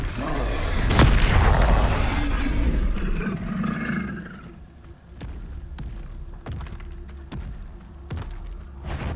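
A Confringo blast spell explodes in the video game Hogwarts Legacy with one heavy, close boom, then a rolling roar that fades over several seconds, followed by scattered light taps and thuds.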